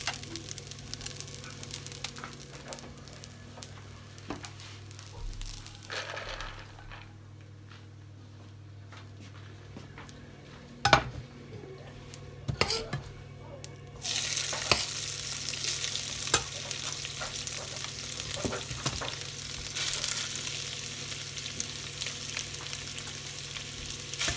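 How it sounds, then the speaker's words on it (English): Nigerian special fried rice sizzles softly in a frying pan, with intermittent scraping and stirring clatters; the frying grows louder and brighter toward the end. "Just allow it to fry like for some seconds before you can turn it out from the fry pan."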